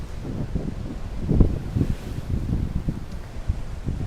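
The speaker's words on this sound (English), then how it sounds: "It is still super windy here" Steady wind buffeting the microphone, a constant rumbling roar with gusty low thumps throughout, no voices.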